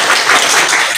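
Dense burst of applause from a crowd at a traders' association oath-taking ceremony, loud and continuous for a brief moment.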